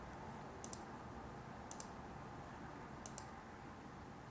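Mouse clicks on a chart button in Mozaik 3D software, three quick double clicks spaced about a second apart, crisp and close against a faint room hiss with no speech.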